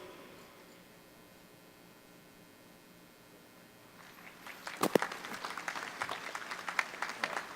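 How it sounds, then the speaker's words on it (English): Applause breaks out at a university commencement ceremony after quiet room tone, swelling into sustained clapping from a large indoor audience with scattered sharper claps. "please join me in a round of applause for the Army's newest Second Lieutenant, Lieutenant Andy Wang."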